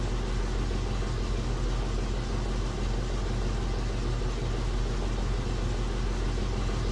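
An aircraft engine in a flight simulator game roars as a loud, steady, dense drone, holding constant throughout with no voices over it.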